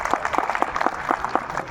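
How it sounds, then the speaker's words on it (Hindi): Scattered applause from an audience at a school exhibition of student models, a few claps falling in a loose, uneven rhythm, thin and a little distant rather than a full ovation. "एक बार इसके लिए भी तालियां।"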